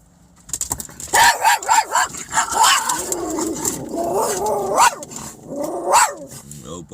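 A dog barks and yips in a quick irregular burst of sharp, close barks, with a growl or two mixed in, and a voice is heard speaking alongside.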